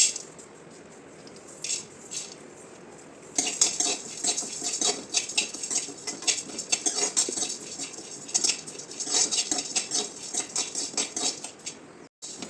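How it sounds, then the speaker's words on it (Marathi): Sunflower seeds dry-roast in a pan for homemade protein powder, with close, busy rattling and scraping as they are stirred, a steady run of clicks and patter that stops sharply near the end. "आता सूर्यफुलाचे बी भाजून घेणार आहोत"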